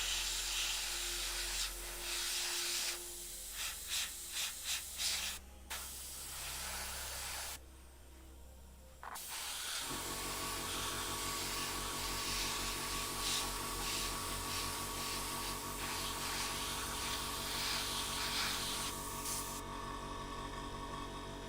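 A spray can hisses steadily while a miniature is painted. Short bursts start it off, then a long continuous spray runs close to the mic with no talking.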